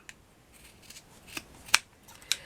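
Scissors snip through purple velvet fabric for a cluster flower patch, with a few soft close snips leading to two crisp, louder cuts near the end.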